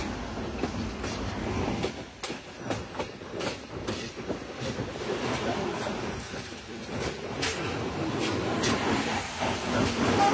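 The Kurigram Express rolls onto the Jamuna bridge in fog, with a dense run of rhythmic wheel clacks and metallic rattling under a continuous rumbling hiss, heard from inside the carriage.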